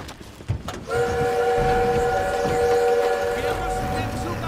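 A train in the video game Call of Duty WWII sounds a long, loud whistle over heavy rumbling, with a brief clatter just before it and voices around it.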